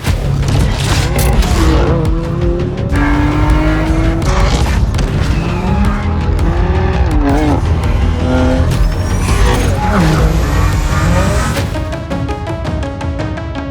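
A BMW M2 CS sports car drives hard, its engine loud and close with rising and falling revs, sharp bursts and a brief tire squeal.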